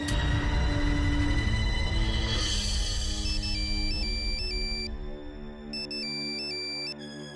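Mobile phone ringtone for an incoming call in a Hindi TV serial scene, a bright electronic melody of repeating beeping tones that starts over background music and rings on clearly by itself.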